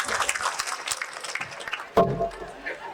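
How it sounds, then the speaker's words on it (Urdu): A mushaira audience gives a brief round of clapping, with a host's voice heard over the crowd noise and a sharp thump partway through. "ایک بار تالیاں بجائیے"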